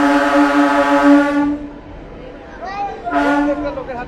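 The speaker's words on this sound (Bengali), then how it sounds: "ট্রেন দেখতে পাচ্ছেন বেলিয়াতর রেল স্টেশনে" A train at Beliator railway station, a crossing station with two lines and large crowds, sounds a loud sustained horn that cuts off, then a second shorter blast follows, with voices faintly underneath.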